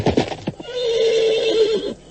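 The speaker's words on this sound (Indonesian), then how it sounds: "Pada saat itulah terdengar rombongan orang-orang berkuda mendekat." A horse neighs loudly and close, a drawn-out whinny following a few soft hoof and movement sounds, as a group of riders approaches at night in a radio drama scene.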